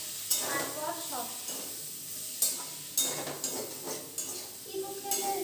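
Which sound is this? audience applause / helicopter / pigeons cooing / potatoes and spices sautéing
potatoes and spices sautéing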